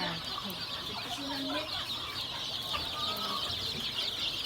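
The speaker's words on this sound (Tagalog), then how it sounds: "The chicken." Chickens at a farm research station in Tagbina cluck repeatedly in short, scattered calls, with steady insect-like background hiss and a little distant talk.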